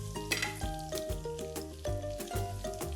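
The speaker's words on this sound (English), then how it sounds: "So the spices are starting to kind of fry a little bit, so I'm gonna go ahead and add in some of that chopped garlic and my shrimp." Chopped garlic and shrimp cooking with spices in a pan, a sizzle under repeated scraping and stirring strokes and clinks of a utensil against metal, close and fairly loud.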